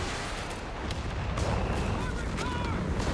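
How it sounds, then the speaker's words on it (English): A creeping artillery barrage rumbles in the Company of Heroes 3 video game, with overlapping shell impacts forming a continuous booming roar beneath a commentator's voice. "Looks like a creeping barrage is coming in."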